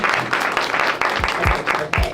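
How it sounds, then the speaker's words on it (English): An audience at a talk event on strength for women applauds in a brief, dense burst of clapping, fairly close and loud. "let's give them a round of applause."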